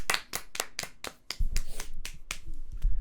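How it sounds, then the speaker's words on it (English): A few podcast hosts clapping close to the microphone, about a dozen sharp separate claps in an uneven rhythm, ending in low rustling and a faint voice. "I think we should just give a round of applause to Bournemouth right now"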